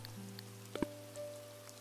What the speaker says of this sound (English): I think we're gonna find three snails since it's raining